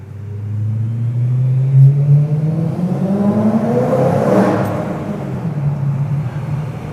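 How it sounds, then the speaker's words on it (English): A BMW fitted with Ohlins Road & Track coilovers revs hard while driving, its engine note climbing and falling in loud, sustained sweeps with a deep rumble close by. "This car sounds so good."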